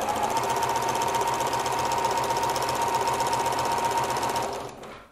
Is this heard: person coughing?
no